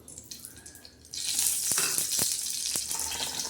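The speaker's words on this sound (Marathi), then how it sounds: "तव्यावर आपण तेल टाकणार आहोत." Oil is poured onto a hot tawa griddle and bursts into a sudden bright, hissing sizzle that keeps up steadily and close by, broken by a few sharp crackles and pops.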